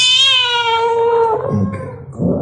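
A cat gives one long, loud, drawn-out meow that falls in pitch and trails off into a rough, whining end, close by and alone.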